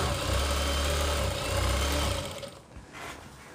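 A sewing machine stitching a gown for a 12-year-old girl hums with a steady loud mechanical whir for about two seconds, then stops, leaving faint handling noise.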